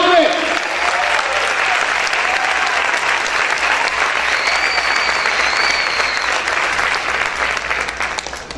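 A church congregation applauds loudly and steadily throughout, a dense sustained wash of many hands clapping close by, with a faint high tone drifting in midway.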